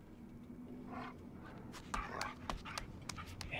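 A kicked dog in the game Until Dawn whimpers and pants softly over a quiet background hum, with a few short yelps near the end.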